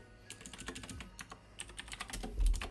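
Fingers clatter across a computer keyboard in quick, close bursts of clicky keystrokes during a live forex trading session, quiet and steady with no talk.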